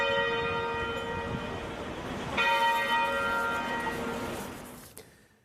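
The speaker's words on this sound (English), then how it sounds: "Bells at the cathedral will ring for 10 minutes at noon every day until Friday." Cathedral bells in Cape Town ring out at noon during national mourning for Archbishop Desmond Tutu, a sustained, resonant peal of overlapping tones that swells midway and then fades, with no voices present.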